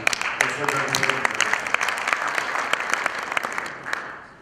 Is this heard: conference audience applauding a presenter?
yes